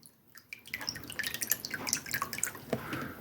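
Battery top-up water poured into a bowl set in warm sandy water, heard as a close, thin trickle with scattered drips and small splashes.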